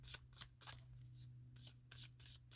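A deck of tarot cards is shuffled by hand, with quick, close riffling bursts repeating in an uneven rhythm against a soft, low hum.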